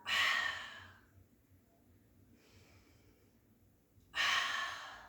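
Breathing during a mat Pilates twist: a loud, close breath at the start, a quieter airy breath in the middle, then another strong breath near the end, with no speech.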